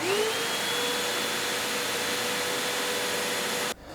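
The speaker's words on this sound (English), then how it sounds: "Now we'll move on to testing the 12 amp vacuum." A 12 amp vacuum cleaner runs on a battery backup power station, a steady loud whine with a rising motor pitch at start-up, cutting off abruptly near the end.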